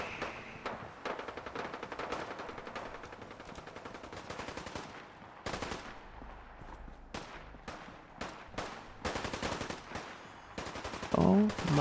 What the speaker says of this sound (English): No matter what you do, there's always shooting.